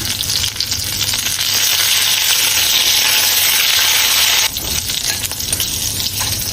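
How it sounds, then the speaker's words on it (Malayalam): Loud, continuous sizzle of garlic, shallots and curry leaves frying in hot oil for Kerala sadhya sambar, close up, with a slight dip and stirring texture near the end and no voices. "വെള്ളുള്ളിയും അതേപോലെ ചെറിയ ഉള്ളി ഇട്ടിട്ട് കൂട്ടത്തില് കറിവേപ്പിലയും കൂടെ ഇടാം."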